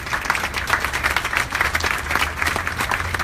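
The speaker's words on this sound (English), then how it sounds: "Nice round of applause." Outdoor crowd at a Hawaii Red Cross flag-raising ceremony for Queen Liliuokalani gives a brisk round of applause, many hands clapping fairly close with a slightly uneven, pulsing texture.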